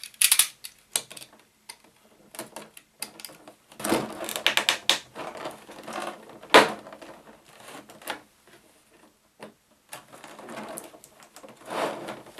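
Tape being cut and peeled off a Resident Evil 2 collector's edition box, a quiet run of irregular scratchy slices, taps and rustles with a few louder snaps, close by and with no talk.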